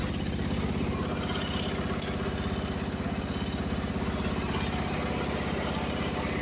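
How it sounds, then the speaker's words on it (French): A diesel-sounding engine that once blew slightly black smoke idles steadily up close, a continuous low rhythmic chug with no pauses across the whole stretch. "C'est un moteur, au départ, il fumait un peu noir."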